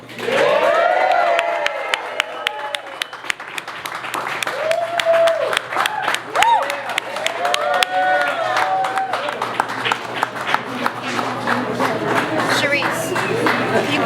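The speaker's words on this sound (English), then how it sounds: "give a big round of applause in celebration of the Latin Billboards with Hennessy and Hot 97" Audience applause and cheering at a Latin Billboards celebration event greet the artist, a loud, dense wash of clapping with shouts and whoops running throughout, while an amplified voice and music carry over the crowd.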